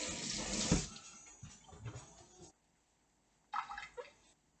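Water runs from a kitchen tap in a burst of splashing, dies away into quiet, then flows again briefly, close and fairly soft with no talking.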